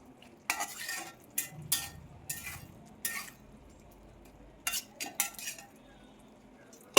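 Prawn roast being stirred in a pan: a series of short, sharp metal spoon scrapes and clinks in irregular bursts, fairly quiet, with a soft background hiss between strokes.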